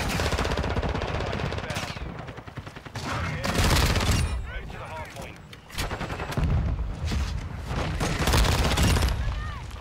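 Automatic fire from a VEL 46 submachine gun in Modern Warfare 2, heard as loud, rapid bursts with brief pauses between them, mixed with explosions and game noise, with some talk underneath.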